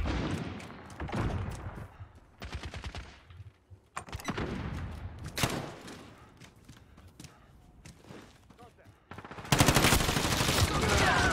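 Gunfire in Call of Duty Modern Warfare, with shotgun blasts and rapid bursts going off in a close-quarters shoot house match, arriving in several loud clusters separated by quieter gaps, ending in a heavy, sustained volley.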